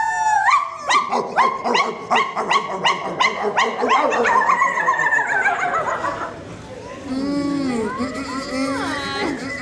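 A performer in a comedic stage show set in colonial Virginia vocally imitates hunting dogs, letting out a rapid string of loud, rhythmic yelping barks before dropping into theatrical talk and a few more sliding yips.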